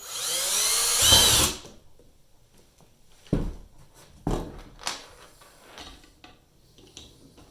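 Drill with a 7/64 bit boring screw holes in a Lifetime Teton Angler kayak: one loud, close burst of whirring, followed by quieter knocks and handling clatter.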